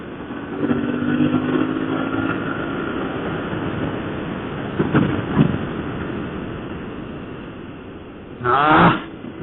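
An Aprilia Tuareg 660 motorcycle engine runs steadily throughout, with a couple of brief bursts mid-way and a louder revving surge near the end.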